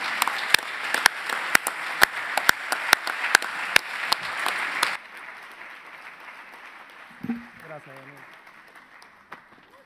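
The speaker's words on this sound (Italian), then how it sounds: "Giovane amico, accogliamolo con un applauso." Applause rises for a young guest speaker, the president of the Cuban artists' and writers' union, at a national Arci congress, sharp claps over a steady crowd roar that fades after about five seconds, then a brief voice.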